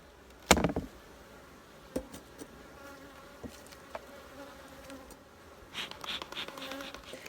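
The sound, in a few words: honey bees buzzing in an opened beehive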